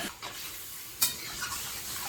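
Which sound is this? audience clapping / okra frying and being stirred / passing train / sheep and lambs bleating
okra frying and being stirred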